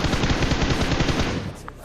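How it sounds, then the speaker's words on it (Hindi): Fast automatic gunfire from the mobile shooter BGMI rattles in a dense, loud burst lasting about a second and a half, then cuts off. "फायरिंग का साउंड आता है मेरे को"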